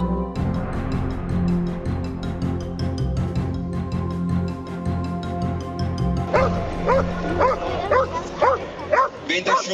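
A police service dog barks repeatedly and aggressively at a threatening handler during a protection demonstration at an outdoor festival on Vienna's Danube Island, with crowd noise throughout and the barking growing louder and denser in the second half.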